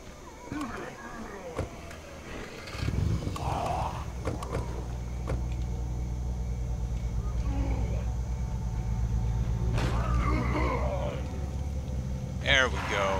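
A car in the zombie-survival video game State of Decay drives along with a steady, low engine rumble that swells after a few seconds and keeps going, while someone talks over it.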